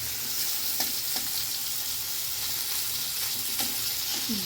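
Morola fish frying in hot oil, a steady close sizzle with faint crackles and an occasional stir of the pan, no voices.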